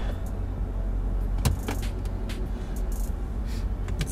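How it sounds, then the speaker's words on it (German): Electric sunroof motor closing inside a Mercedes E63 AMG 4Matic with a 557 PS engine: a steady low mechanical hum over the cabin's engine and road rumble, with one brief click partway through and no talk. "Ich mache mal Schiebedach zu, damit es nicht so laut ist."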